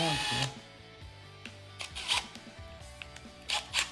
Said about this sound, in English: we're gonna use a 1/8 drill bit